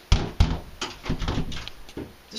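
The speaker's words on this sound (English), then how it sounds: "This door doesn't even lock from this side." A door is tried and rattled, several sharp knocking jolts in quick succession followed by looser rattling, close and loud with no talking.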